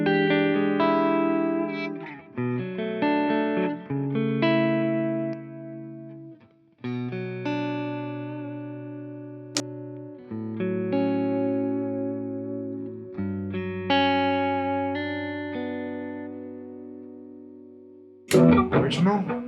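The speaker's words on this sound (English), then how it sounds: "Here's what they sound like clean." Clean electric guitar tone through a Mesa Boogie Mark IIC+ reissue amp, a sequence of picked notes and chords ringing out with short pauses between phrases, moderately loud and alone.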